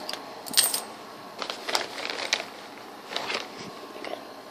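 Coins picked up in a video game ring out as a string of bright metallic jingles and clinks, several separate bursts spread across a few seconds, up close with no voices.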